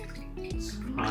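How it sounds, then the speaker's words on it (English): Milk is poured into a taco dough mixture of salt, sugar and flour, a short close gurgling liquid pour lasting about a second. "Now I am going to add milk"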